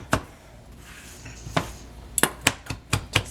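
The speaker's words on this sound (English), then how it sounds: "you're just going to want to take them and chop them up real small" A knife chops hearts of palm on a cutting board in a series of sharp, close knocks, first spaced apart and then quicker, several in a row with quiet gaps between.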